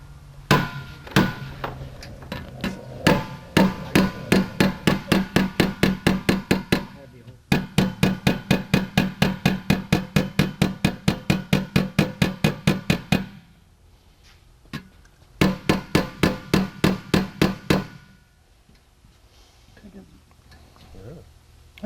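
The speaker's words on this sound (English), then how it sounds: "take a little ball peen hammer and gently peen these in just a little bit" A small ball peen hammer taps rapidly at a steady rhythm, peening parts on a Jabiru aircraft engine, in three long runs of sharp metallic strikes separated by short pauses, close and loud.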